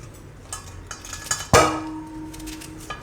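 A knife cuts cucumber in a bowl for zero-oil poha, with light clinks and taps before one sharp metallic strike that leaves a ringing tone fading over the last second and a half.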